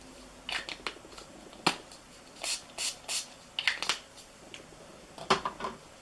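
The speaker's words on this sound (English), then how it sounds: "I just use some setting spray to wet my brush a little bit." Several short hissing bursts of a makeup setting spray bottle onto a brush, some single and some in quick pairs, close by with quiet pauses between.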